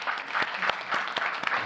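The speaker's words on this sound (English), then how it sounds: "I like how your wife started to clap." An audience claps at a post-show panel discussion, a short burst of scattered hand claps with sharp individual strikes over a dense wash of applause.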